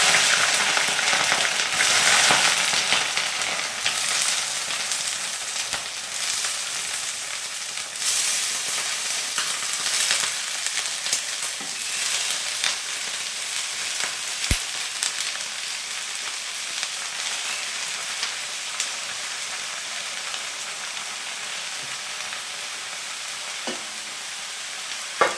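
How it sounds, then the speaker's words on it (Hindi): Vegetables fry in a pan with salt and chilli, giving a steady, loud sizzle that holds for the whole stretch with occasional stirring scrapes and no talking. "इसको नमक मिर्च डाल करके इसको भून लेंगे अच्छी तरह से"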